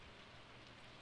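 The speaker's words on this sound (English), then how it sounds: "Oh, it's raining." Rain falls in the farming video game Stardew Valley, a soft, steady hiss of dense rainfall, faint and continuous for a brief moment with no voices.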